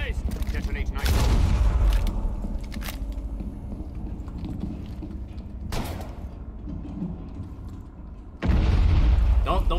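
Nitro cell explosions in Rainbow Six Siege: a sharp, deep blast is followed by a rumbling tail, with two more loud booms later, mixed with gunfire and players talking.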